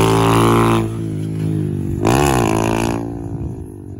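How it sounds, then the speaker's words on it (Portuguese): A motorcycle revs hard during a wheelie, loud and close, with sharp rising and falling engine pitch swings and a brief scraping clatter near the end. "Olha o grau de Arthur."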